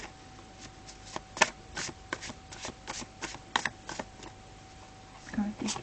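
Tarot cards shuffled by hand in a quiet room, a run of soft, irregular riffling flicks and taps spread across several seconds, fairly close and gentle.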